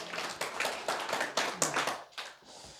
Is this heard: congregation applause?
yes